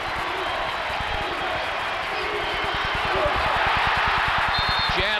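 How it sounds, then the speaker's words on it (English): A Purdue basketball crowd roars in a steady, loud wash of cheering, with a ball bouncing rhythmically on the court underneath. "This crowd is getting behind them"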